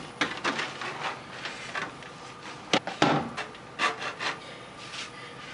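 Rough, rasping strokes of a saw or file on wood, irregular bursts of scraping with short pauses, close up and fairly quiet.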